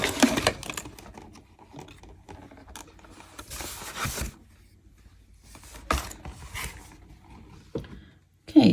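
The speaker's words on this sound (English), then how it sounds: "See, there'll be a little bit of box noise happening." A needle felting kit box being unpacked, with scattered cardboard rustles, scrapes and soft thuds in short bursts separated by quiet pauses.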